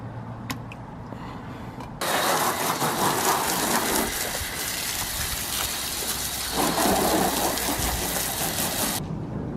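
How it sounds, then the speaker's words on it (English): Steady rain begins abruptly and hisses down around a freshly washed black Nissan Fairlady 300ZX, a dense broadband wash of drops that stays loud and continuous, with a low rumble underneath. "it started raining, and now my car's gonna be dirty again"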